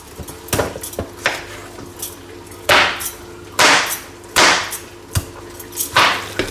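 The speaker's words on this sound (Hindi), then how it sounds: "बाकी का पंपकिन काटते हैं जल्दी से" Knife chopping through pumpkin on a board in a home kitchen, a series of irregular sharp chops and knocks, some louder and sharper than others, close and clear with no talk.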